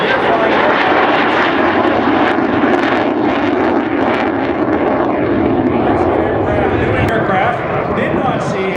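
A USAF F-16 fighter jet in an airshow demonstration roars loudly and continuously overhead, a broad, harsh engine blast holding at full strength throughout, with a commentator's voice faintly mixed under the noise.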